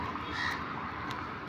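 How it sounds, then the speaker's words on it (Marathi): A crow caws in the morning outdoors, its harsh calls ringing over a steady background hiss during a walk among trees; the calls are clear but moderately distant and not very loud. "सकाळचा कावळा बघा कसा काव काव करतो बघा."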